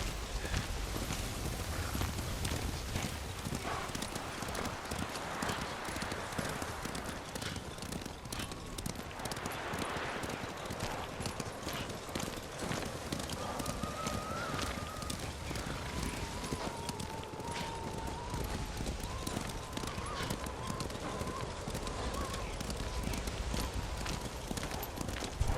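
Steady clip-clop of horse hooves galloping continuously in the video game Ghost of Tsushima, with faint wind and distant voices murmuring underneath.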